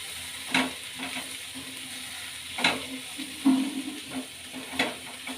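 Butter masala sweet corn being stirred in a pan with garlic, salt, garam masala, chili powder and turmeric, a soft sizzle under a few sharp spoon scrapes against the pan at irregular intervals.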